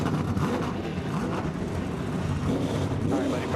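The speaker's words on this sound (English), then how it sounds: "Drivers, start your engines!" NASCAR race car engines rumble on a starting grid, a dense continuous low roar of many motors filling the scene with no gaps, loud and steady throughout.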